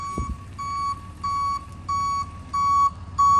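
Steady reversing beeps from a tow truck, six evenly spaced high-pitched tones over a low idling engine rumble.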